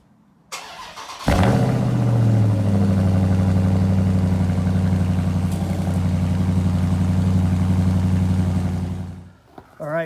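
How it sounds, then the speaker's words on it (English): A 2021 Dodge Charger fitted with Carven exhaust tips cold-starts with a sharp starter crank and roar, then settles into a loud, deep, steady idle rumble heard up close. "That startup, that cold start, as you saw, registered 104 decibels in these conditions."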